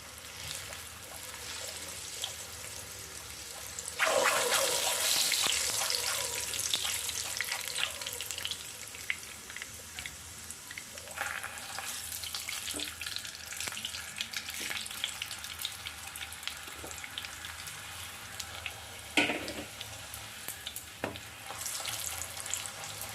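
Whole moong dal puri deep frying in hot oil, a steady broadband sizzle that flares loudly as a fresh puri is dropped in around the fourth second, with occasional clinks and splashes and no talking.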